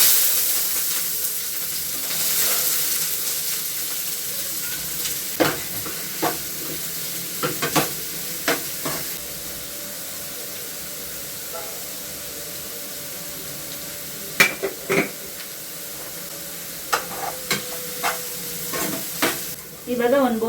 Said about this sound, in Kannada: ಇವಾಗ ಎಣ್ಣೆ ಕಾದಿದೆ, ಅದ್ರ ಮೆಣಸಿನಕಾಯಿ ಈರುಳ್ಳಿ ಹಾಕೋತೀನಿ.